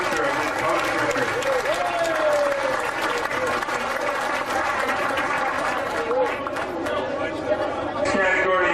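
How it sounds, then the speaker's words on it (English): Applause at the awards ceremony for a mountain road race, a crowd clapping steadily and densely throughout with chatter and voices mixed in, plus a brief whistle-like tone near the start. "a round of applause for New England Runner Magazine"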